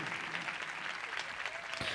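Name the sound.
congregation applauding during a church sermon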